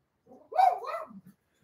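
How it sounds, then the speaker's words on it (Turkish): A single dog lets out a short, strained bark-whine that rises and falls, with a brief growl trailing off. It is heard at close range against otherwise near silence. "Şu anda köpekler geldi ve Tarçın onlarla kavga ediyor."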